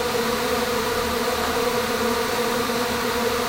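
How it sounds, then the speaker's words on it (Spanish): A Melipona stingless bee colony swarming out in a dense cloud-shaped flight, a loud, constant, close buzzing hum from hundreds of bees with no pauses. "casi todas las abejas terminan por salir frenéticamente para conformar un vuelo en forma de nube"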